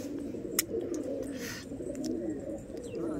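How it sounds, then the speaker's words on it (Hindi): Pigeons coo softly at home on a rooftop ledge near their feeding spot, a low continuous murmur with a few brief sharp taps and flutters over quiet background. "ये बड़ा कबूतर है मोरो वाला,"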